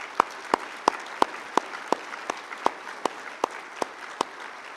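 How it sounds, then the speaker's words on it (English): Steady, evenly spaced claps ring out prominently over a softer wash of crowd applause. "let's give him another big round of applause"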